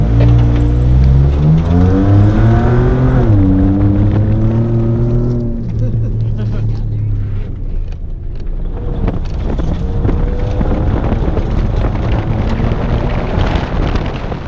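A Chevrolet ZR2 pickup accelerates hard from a standing start on a timed track lap, the engine note climbing through the gears before wind rush buffets the microphone.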